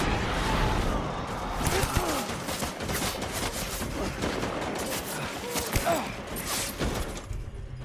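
Rapid assault rifle gunfire from a Death Stranding gameplay firefight, dense bursts of shots rattling continuously over clattering mechanical noise, with a voice talking underneath.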